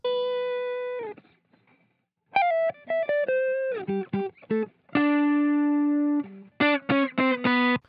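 Fat, smooth Stratocaster electric guitar through Guitar Rig with presence and warmth EQ boost plays sustained notes and short staccato phrases, loud and clean-toned with gaps of silence between lines.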